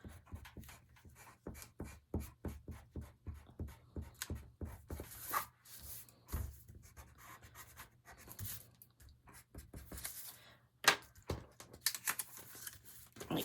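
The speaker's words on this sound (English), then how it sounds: "I'm going to erase my lines because I didn't exactly cut on them" A rubber eraser rubs pencil lines off a paper explosion-box craft, making soft, quick back-and-forth scrubbing strokes in a steady rhythm, close up and quiet with occasional small paper rustles.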